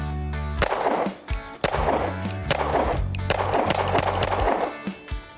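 A Glock pistol fitted with a Timney trigger fires shots in quick succession, loud sharp cracks with ringing echoes in a steady rhythm, no talking over them.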